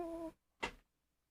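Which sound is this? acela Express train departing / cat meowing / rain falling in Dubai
cat meowing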